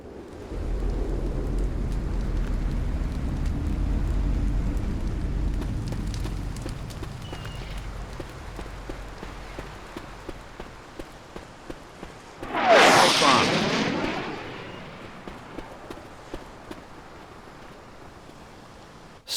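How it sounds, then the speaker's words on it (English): Stormy weather in Left 4 Dead 2: a low rumble of thunder and steady rain roll in, then a loud crack of thunder breaks out and fades, with soft rhythmic thuds afterward. "Stormy weather effects give the director yet another way to influence gameplay by altering the player's sensory capacity"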